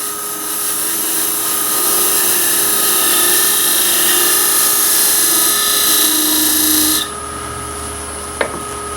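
A woodturning lathe hums steadily while a tool cuts lightly into the lid joint of a wooden ring box, a continuous whine with a faint high scraping tone that drops off, then a brief tap.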